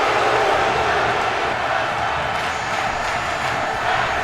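Steady, dense crowd roar with chanting fills a wrestling arena during a tag team match in the WWE 2K video game, continuous and fairly loud throughout.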